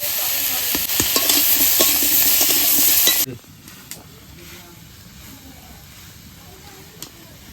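Ridge gourd curry with salt and turmeric sizzles loudly in a pan while being stirred with scraping strokes for about three seconds, then the noise drops abruptly to a quiet background with faint clinks.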